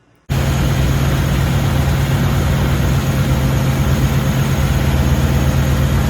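A Dodge 5.9 Magnum V8 with a leaking head gasket, revved up to a higher, steady RPM, a loud, close, continuous engine drone with no talk.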